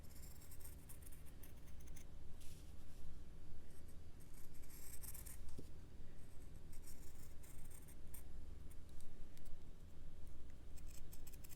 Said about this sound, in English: I'll just cut out that candy. So I'll take my fabric scissors